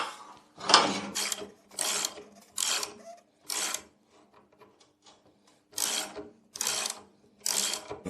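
A workshop jack is pumped to lift a Lambretta scooter for engine removal, giving a series of about eight separate rasping, squeaky strokes in an uneven rhythm with short pauses between them, close by and alone.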